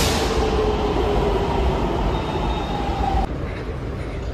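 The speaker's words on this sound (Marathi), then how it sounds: "जस्ट मेट्रो आली आहे." A metro train pulls into a station with a loud, steady rumble and a high whining motor tone that shifts and drops abruptly near the end as it comes to a stop.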